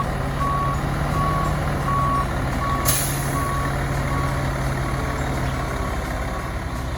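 A truck reverses a trailer near a barn, its backup alarm beeping in a slow, even series over a steady diesel rumble, with a brief hiss of air partway through and no talking.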